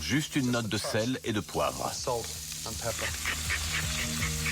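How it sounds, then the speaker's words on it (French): Merguez sausages fry in a pan over high heat, giving a steady sizzle that runs beneath continuous talking. "Commencez par faire chauffer une poêle à feu vif et déposez-y les merguez."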